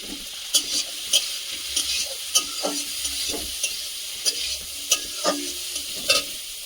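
Spices and chopped onion frying in leftover potato-frying oil for a chicken curry: steady sizzle with repeated scraping stir strokes of a spoon against the pan, close and fairly loud, no talking.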